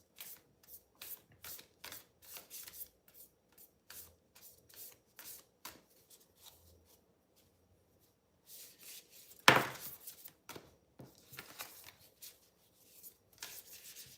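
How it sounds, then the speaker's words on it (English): A deck of cards is shuffled repeatedly in quick, soft riffling bursts, close and fairly quiet, with short pauses between shuffles and one sharper clack near the middle. "I can't shuffle these for the life of me."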